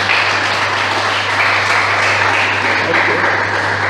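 A church congregation applauding the Lord during a morning service, producing a dense, continuous wash of clapping with a steady low hum underneath, loud and sustained throughout.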